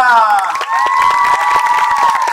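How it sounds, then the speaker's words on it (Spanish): Clapping from a birthday party audience for Patricia, with a clown on hand, mixed with children's shouts and a sustained voice sliding down in pitch, loud and close throughout. "doblemente fuerte el aplauso para Patricia"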